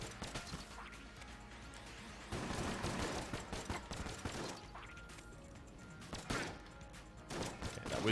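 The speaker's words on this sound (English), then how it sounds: "Was 12 shots to take down a single target with this gun" Repeated gunfire from a gun in the video game Enter the Gungeon: a steady, moderately quiet stream of shots with denser, louder bursts and a few sharp hits midway, with no voices.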